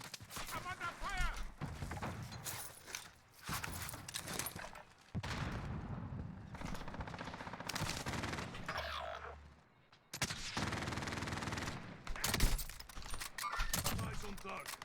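Gunfire in a first-person shooter game comes in bursts of rapid shots separated by brief gaps, fairly close, with game voice lines mixed in.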